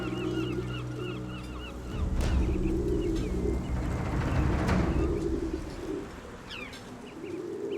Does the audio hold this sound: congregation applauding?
no